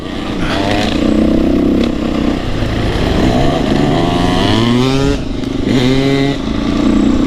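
Two-stroke dirt motorcycles ride through the Victorian high country near Dargo, their engines loud and close and buzzing without a break, with the pitch climbing and dropping as the riders rev and change gears.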